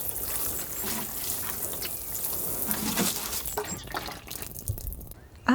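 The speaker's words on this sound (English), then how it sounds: "Then cover the seeds with soil and finally water them." A soft, steady trickle of water splashes onto soil over freshly sown seeds in a garden bed, with faint dripping and a gentle hiss throughout, quiet and close.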